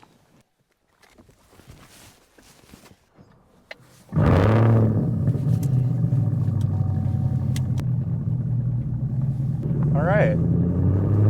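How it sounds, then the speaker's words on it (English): Camaro ZL1 1LE with a supercharged LT4 fires up loud and near after a quiet stretch, settling into a deep rumbling idle with a brief blip of revs toward the end; someone speaks briefly at the start. "We're setting out in the Camaro ZL1 1LE."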